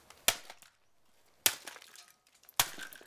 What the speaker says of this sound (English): Smashed all the pieces.